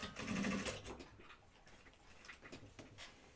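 A sewing machine stitches a flight suit with double needles in a soft, fairly quiet run of quick ticking needle strokes, starting a little louder, then continuing in uneven short bursts.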